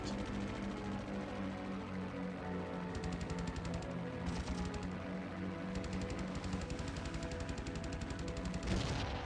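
Machine-gun bursts from a P-38 fighter in a WWII flight game, rattling in short stuttering volleys over a constant droning engine and dense background noise, with a few separate bursts across the stretch.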